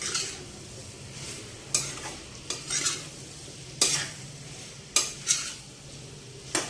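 Cucumber pieces and mutton frying together in a pan, with a steady sizzle broken by several sharp scrapes and clinks of a spoon stirring at irregular intervals, close up and with no talking.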